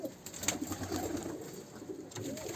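Pigeons cooing in a coop with young birds, soft overlapping coos close by, with light rustling and a faint steady background hum.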